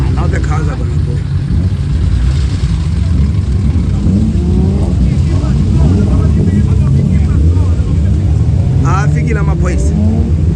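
A long convoy of BMW E30 cars pulls away at a festival gathering, a steady loud rumble of several engines with some revving, while people shout and talk over the noise.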